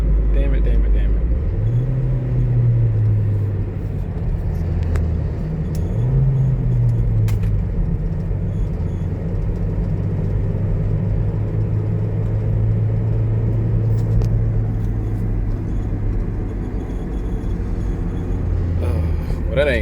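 A Ford Transit van with a misfire and no third gear driving along, its engine droning in a loud low rumble that climbs in pitch through two gear changes, while people talk over it.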